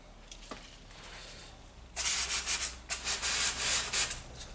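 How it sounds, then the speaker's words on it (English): The timing belt tensioner bolt on a Volvo S40/V40 petrol engine is cleaned by scrubbing, a close, rhythmic scratchy rubbing that begins about halfway in after quiet background. "Give the tension bolt there a little clean."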